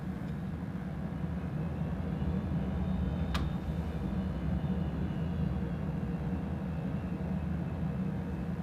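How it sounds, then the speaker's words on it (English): Airliner on runway 16 in a flight simulator game during a Melbourne to Brisbane flight, its engines giving a steady, loud low rumble throughout the takeoff roll with no voices. "runway 16, clear for takeoff"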